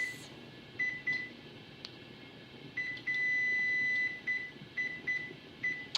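An oven timer being set while baking sourdough paska beeps in short, high electronic chirps at an irregular pace, with one longer held tone in the middle, close by and clear over a quiet kitchen hum.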